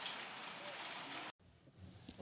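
A heavy downpour gives a dense, steady hiss of rain for just over a second, then cuts off abruptly and leaves a quieter background.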